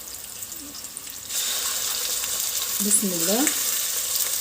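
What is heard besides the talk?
meat added to hot pot, frying for biryani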